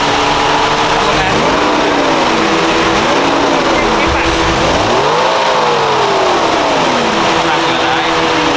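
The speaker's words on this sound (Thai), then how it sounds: "เมื่อกี้ตอนที่เบิร์นรอบสูงก็เป็นเสียงวู้ขึ้นมาไม่ใช่เสียงสายพานนะมันคือเสียงพัดลมฟรีปั๊ม" A Mercedes-Benz W202 C280 engine revs to high rpm, with repeated rising and falling whoops followed by one long climb and fade, loud and close over a steady background roar.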